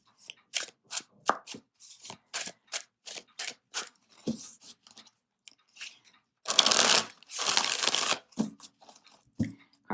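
A deck of tarot cards is shuffled by hand, a quick run of crisp riffling slaps followed by two longer, louder whirring riffles, close and clear with no talking.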